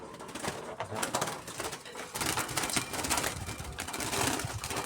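Caged zebra doves give soft, repeated cooing calls mixed with chirpy twittering from several birds nearby, over a busy, noisy background.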